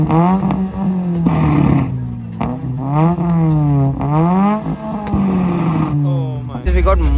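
A modified car at a car meet revs hard through its exhaust in repeated rising and falling bursts, loud and close, with crowd noise and excited talk underneath.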